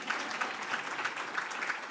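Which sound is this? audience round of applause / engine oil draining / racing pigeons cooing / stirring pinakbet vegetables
audience round of applause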